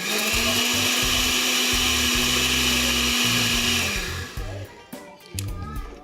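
A blender quickly whirs pancake batter with banana, a loud steady motor drone for about four seconds before it winds down, followed by scattered clatter and a voice speaking.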